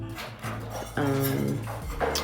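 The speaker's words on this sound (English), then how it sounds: "My dog is begging me for some." A dog begging for food gives a close, drawn-out whine, with several wavering, nasal whimpers that rise and fall over a couple of seconds.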